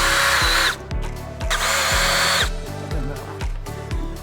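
A power drill or impact driver whirs loudly and up close while backing bolts out of a Dodge Journey dash panel, giving several bursts of high-pitched spinning over a steady rhythmic pulsing, with no voices.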